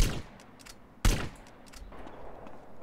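Gunfire in the video game GTA San Andreas: a sharp burst at the start, then a louder single shot about a second later, followed by fainter scattered shots and a low rumbling game background.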